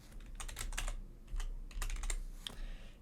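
Fast keystrokes on a computer keyboard come in short clustered bursts with brief pauses, close and fairly quiet, while Python code is typed.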